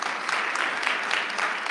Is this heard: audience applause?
yes